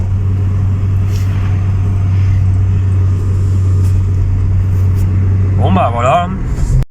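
A Volkswagen Polo 1.4 MPI petrol engine runs steadily at idle close by, a constant low hum throughout, with a brief voice near the end.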